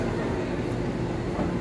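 A steady, low rumble of a train in motion between Buenos Aires and Córdoba, Argentina, fills the space, constant and close, with no distinct clicks or horns.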